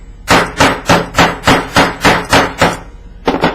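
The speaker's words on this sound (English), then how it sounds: "before you start hammering, hold it" A hammer strikes metal on a bench while jewelry is made, with about ten sharp, ringing blows in a steady, even rhythm close to the microphone, then a short double tap at the end.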